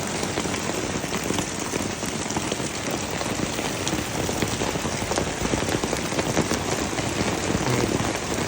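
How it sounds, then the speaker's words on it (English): Hail pelting down hard outdoors during a storm, a dense, continuous rattling patter of countless impacts, loud and steady throughout with no voices. "It's looking like we got some serious hail going on."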